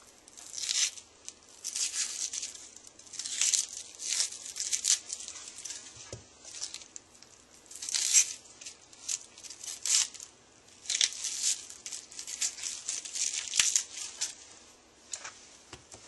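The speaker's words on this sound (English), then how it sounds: "Cut my onion in 2 halves." A knife cuts an onion in half on a board, giving repeated crisp crunching and tearing sounds close up, moderately loud and irregular, with no talk.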